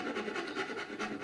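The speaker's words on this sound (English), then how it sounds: "here you see me sanding off the seams" Rhythmic hand sanding of mold seams on molded Flaxwood guitar parts: quick back-and-forth rasping strokes, close and moderately quiet, with no voices.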